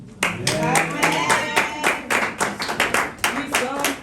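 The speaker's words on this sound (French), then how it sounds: "je pense que ça s'applaudit" A church congregation applauds, with steady, rhythmic claps close by and voices mixed in throughout.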